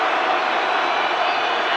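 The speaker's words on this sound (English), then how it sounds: "And listen to the crowd now." A rugby stadium crowd roars for the Barbarians as they push for the line, a thick, steady wall of massed voices and noise with no break over a couple of seconds.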